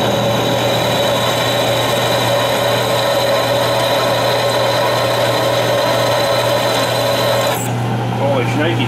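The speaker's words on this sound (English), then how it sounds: "that's drilling pretty nice" A power drill bores a pilot hole through a steel plow part, a loud continuous high whine with rasping grind that holds steady for about seven and a half seconds before the pitch drops and the drill slows.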